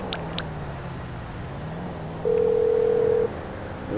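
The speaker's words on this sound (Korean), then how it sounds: "전화 안 받는 거 봐" A telephone rings unanswered inside the game GTA 5, sounding as a steady electronic tone burst in the middle, clearly above a humming in-game background.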